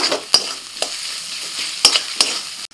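Ground spices and turmeric fry in a pan with a steady sizzle, punctuated by several sharp scraping clicks as a spoon stirs, close up with no talking.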